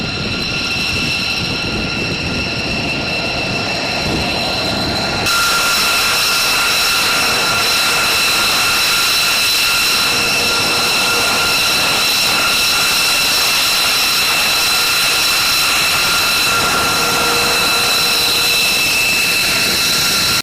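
U.S. Air Force B-2 bomber jet engines roar during a mass takeoff, a loud, continuous, high-pitched whine over heavy rumble that surges and stays intense throughout.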